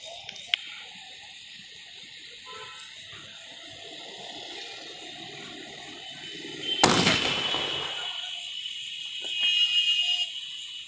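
A Diwali sky shot firecracker is lit outdoors; a quiet fizzing fuse is followed by a sudden loud burst and crackling shower, with a later swell of hissing.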